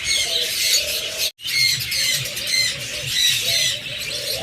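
A pair of green split ino pet birds squawking and chirping close by, a steady run of harsh calls with a brief break partway through, no voices.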